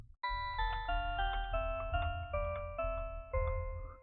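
Synthesizer bell patch played in a high register, a sequence of distinct bright ringing notes with clear overtones, each struck cleanly and decaying, with no talking.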